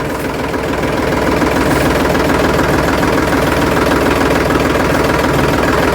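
A Trakstar mini tractor hitched to a small trailer runs steadily nearby, its engine a loud, continuous, rough-textured chug that stays even throughout with no speech over it.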